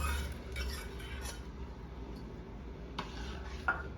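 Boiled dal goes into a pan of fried onion and bottle gourd, with a spoon clinking and scraping against the metal in a few light, close strokes over a quiet background and no speech.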